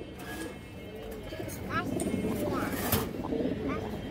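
A male silver baghā khaki pigeon coos, soft rolling calls near at hand, while someone talks over them almost throughout.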